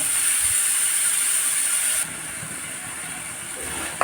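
Small cleaned prawns frying in a pan give a constant close hiss and sizzle that drops a little partway through and then carries on steadily, with faint background noise.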